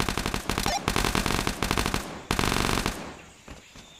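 Sustained automatic gunfire rattles in long, loud bursts inside the VR shooter Tactical Assault VR. The fire cuts off briefly, resumes, then stops, leaving a few faint sounds behind.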